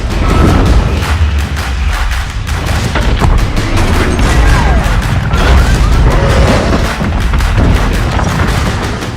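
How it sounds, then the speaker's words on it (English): A nuclear explosion blast roars as a loud, sustained rumbling boom with crackling, crashing bursts throughout and no voices. "A nuclear explosion!"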